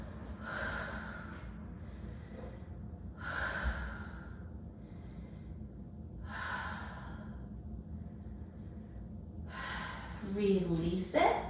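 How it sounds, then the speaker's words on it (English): Slow, deep breaths during a lying leg stretch, four long exhales spaced a few seconds apart, close and audible, with a sharper sigh-like breath near the end. "Lie back, pull that leg in. 5 deep breaths right here."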